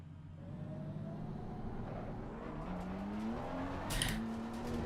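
A race car engine climbs through the gears at full throttle on the Nordschleife in the Assetto Corsa Competizione sim, a steady rising drone with a brief high squeal near the end, loud and unbroken with no talk over it.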